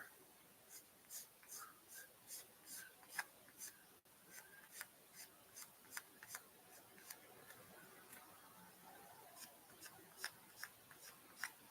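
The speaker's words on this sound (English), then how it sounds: "And I'm sanding in the direction of the panel, not against, especially because of the edge there." Sandpaper working along the edge of a Rick Dias Gundam plastic model kit, heard as a steady series of short, quiet rasping strokes close by, with no talking.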